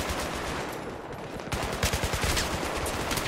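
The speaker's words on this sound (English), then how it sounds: "they're already shooting us" Rapid automatic gunfire in Battlefield 3 on Xbox 360 rattles close and loud, with enemies firing on the player, the bursts growing denser and harder in the second half.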